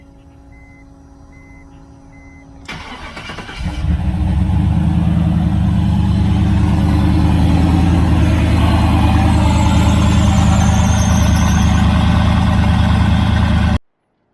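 A BMW with an overheating problem is cranked and fires up about three seconds in, settling into a loud, steady idle that runs on before cutting off abruptly; faint beeping is heard before the start.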